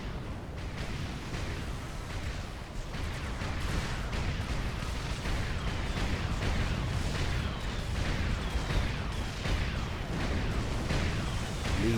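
Torpedo strikes and naval gunfire during a ship battle in the strategy game Supreme Commander, a dense, continuous roar of overlapping booms and blasts that never lets up.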